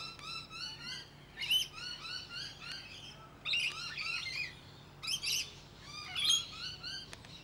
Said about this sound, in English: that sound is the alarm call of a noisy miner.